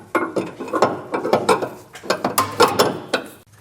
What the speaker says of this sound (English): it might be hard to get a socket on there, but do the best you can to tighten it and torque this down